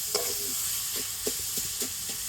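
Jaggery and grated coconut are stirred together in a pan, making a soft steady sizzle broken by about half a dozen quick scraping strokes of the spoon, close and without talk.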